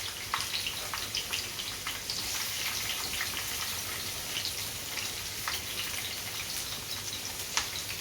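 Strips of onion and pepper frying in hot oil in a pan, a steady soft sizzle with scattered crackles and pops, fairly quiet and continuous with no talking.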